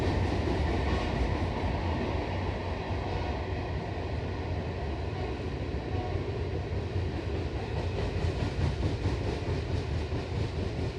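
A freight train rumbles past near the Long Island Railroad, a loud, steady, broadband roar with a low rumble and faint rhythmic wheel clatter throughout, with no voices.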